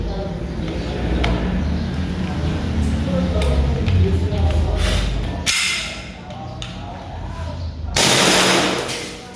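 Airsoft 1911 pistol, modded for full auto and chilled from firing, lets off rapid bursts of sharp cracks, close and loud, with a few abrupt louder bursts near the end.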